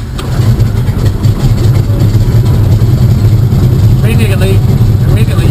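A DeHavilland Beaver's radial aircraft engine cranks on the starter with a low, rhythmic chugging that builds into a steady rumble, loud and close.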